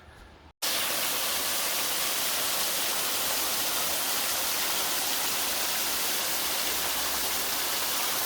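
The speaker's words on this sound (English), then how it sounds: "the waterfall" The waterfall at Penscynor Wildlife Park roars as a loud, steady, broadband wash of falling water, close and unbroken after a brief quieter moment at the start.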